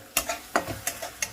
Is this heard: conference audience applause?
no